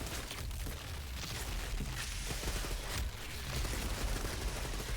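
Rapid gunfire in the Outriders video game, a dense, continuous burst of shots and impacts that stays loud for the whole stretch, with no talk over it.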